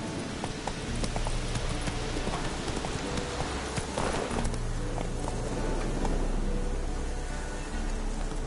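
Roach the horse trots along in The Witcher 3, hooves clip-clopping in a steady, close, even rhythm that runs throughout with no speech.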